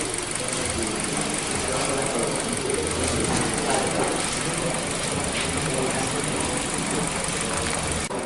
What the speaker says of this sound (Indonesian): Hidupkan mesin dan AC pada putaran blower high dan temperatur kontrol maksimum.